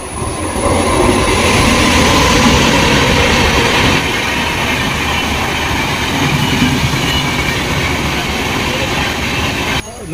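A train passing through Thalassery station without stopping, a loud, sustained roar of rail cars rolling by close at hand with rumbling wheels and faint clatter, lasting about ten seconds.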